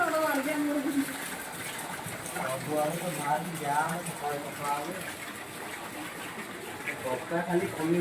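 Floodwater gushes and pours into a house in a steady rushing wash, with people talking excitedly over the flow throughout.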